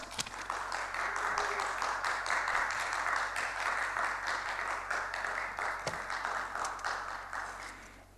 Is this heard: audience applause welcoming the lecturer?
yes